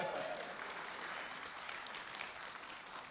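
Audience applause at a Klinge Brothers Ghosts of Texas Tour presentation in Melbourne, steady dense clapping from a crowd that fades slightly over a few seconds, moderately distant.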